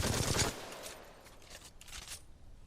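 Hip-fired gun shots at a wall in Titanfall, a loud rapid burst of automatic fire at the start, then a few fainter scattered impacts trailing off.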